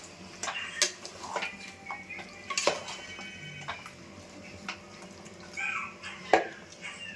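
A utensil stirring food in a pot at close range, with irregular clinks and scrapes against the metal and no talking.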